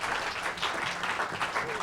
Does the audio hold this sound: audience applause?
yes